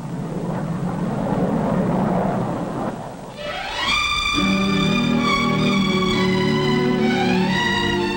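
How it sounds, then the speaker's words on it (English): A 1950s passenger jet airliner roars past, a broad rushing rumble giving way to a steady high-pitched engine whine with shifting tones, loud and close. "The first passenger jet clipper to fly the Atlantic."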